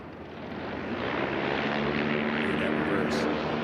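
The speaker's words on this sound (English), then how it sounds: "Look how quick he can get that aircraft stopped by stabbing that reverse pitch propeller." A Kit Fox light aircraft with flaperons lands at a STOL drag race and its propeller is put into reverse pitch, giving a loud, steady, broad engine and propeller roar that swells slightly near the end.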